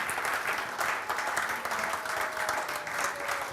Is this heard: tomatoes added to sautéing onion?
no